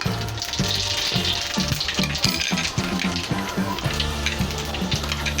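Two chopped dried red chillies and a pinch of whole spice tempering sizzle in hot oil for egg tadka dal, a steady crackling hiss running under rhythmic background music.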